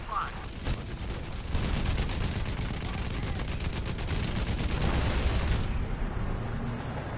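A mountain explodes in the Crysis video game as aliens invade: a loud, sustained rumbling roar with dense crackling bursts, steady for several seconds before easing slightly near the end.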